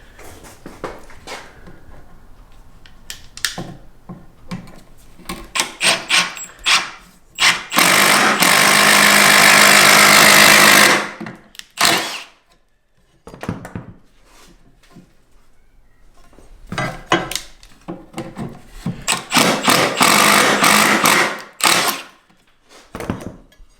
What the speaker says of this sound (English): Get a louder drill.